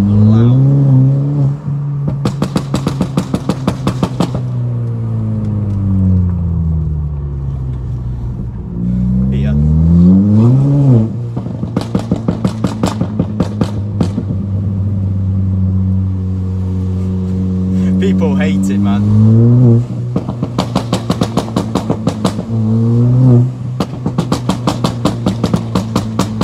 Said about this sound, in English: watching my car whizzy past everything, just banging